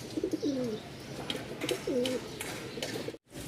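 Lahori pigeons for sale coo in two soft, repeated phrases, close by and fairly quiet, with a brief drop to silence near the end.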